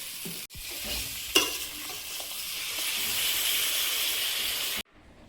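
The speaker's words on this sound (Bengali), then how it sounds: "এবার জল দিয়ে দেবো" Water is poured into a hot pan of fried vegetables with potatoes and sets off a loud, steady hiss and sizzle of steam. The hiss holds for several seconds, then cuts off abruptly.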